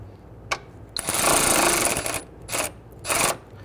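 Two bolts on the plastic coolant reservoir of a 2011-2023 Dodge Charger 3.6L V6 are snugged down by hand tool, giving a few short ratcheting bursts close by, one longer sustained run and two more brief bursts with gaps between.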